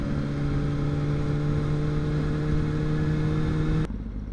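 A Kawasaki 636 sport motorcycle being ridden gives a steady, loud engine drone with a constant tonal whine that holds for about four seconds, then cuts off abruptly, leaving quieter background.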